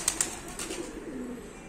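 Pigeons released outdoors after rain, two sharp close wing claps of takeoff followed by soft fluttering and faint low cooing in a cool, quiet setting.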